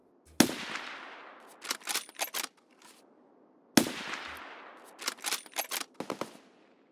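Gunfire in a shooter video game: two loud shots, each trailing into a decaying echo, followed by rapid clusters of sharp bursts, with the whole sequence repeating twice and no talk.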